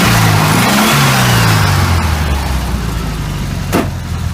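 A 1971 Volkswagen Beetle convertible's 1.6-liter, 1600cc four-cylinder engine runs steadily up close, with a low, even drone and a slight rise in pitch early on.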